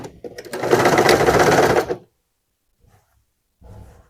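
A sewing machine runs a fast, even burst of stitching along a chalk-marked seam on a draped skirt for about a second and a half, then stops, followed by near silence and a few small handling knocks.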